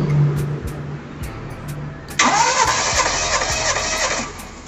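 Car engine cranking for a cylinder compression test: quiet rumble and clicks, then at about two seconds the starter kicks in with a loud, sustained rhythmic churn that runs to the end.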